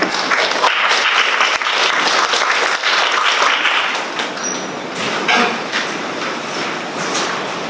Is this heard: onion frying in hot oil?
no